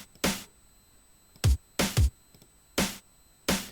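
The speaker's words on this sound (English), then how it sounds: "it's just a snare which sounds like this" Drum and bass snare sample from a Loopmasters pack hit six times in an uneven pattern, each a sharp crack with a short noisy tail, close and dry with quiet gaps between hits and no talk.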